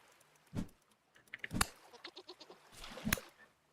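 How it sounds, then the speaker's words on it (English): Goat bleating in the game Vintage Story, a few short separate bleats at moderate distance with quiet pauses between them and faint background ambience. "Is that a goat, too?"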